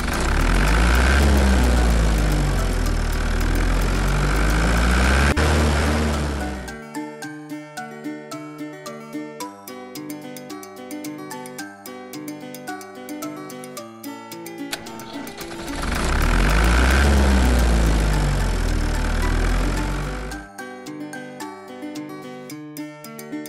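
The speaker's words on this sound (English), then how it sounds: "Tractor with trailer." A tractor towing a trailer sits idling, its low diesel rumble loud and steady, fading out around seven seconds and returning near fifteen, with tuneful music filling the gaps between.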